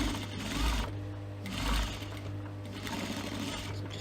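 A sewing machine stitches fabric for a cosmetic pouch in short bursts: two quick runs of rapid mechanical whirring, then a steadier stretch of stitching, close and moderately quiet.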